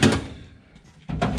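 Metal tool box drawer sliding open and shut, a loud rolling rumble that fades, a short pause, then another sharp scraping slide, close by.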